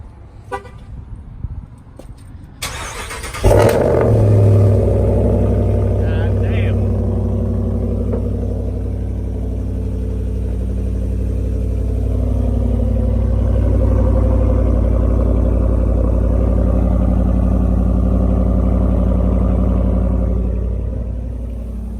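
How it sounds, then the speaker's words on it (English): A 2019 Ram 1500 with its muffler and resonator deleted cold-starts after a few seconds of handling noise and a brief voice. The engine catches with a sharp bark, then settles into a deep, loud, steady exhaust rumble held close. "There's a cold start."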